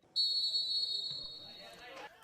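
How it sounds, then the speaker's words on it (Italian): A referee's whistle sounds the kickoff of a fourth-tier Italian football match, one long shrill blast over faint crowd noise, followed by a commentator talking. "Fischio d'inizio"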